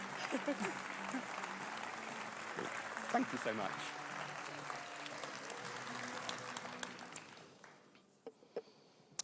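Conference-hall audience applause at a Liberal Democrats party conference, a steady dense clapping that runs beneath a voice speaking, then thins into a few scattered claps near the end.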